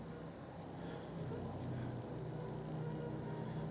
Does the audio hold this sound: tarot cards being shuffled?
no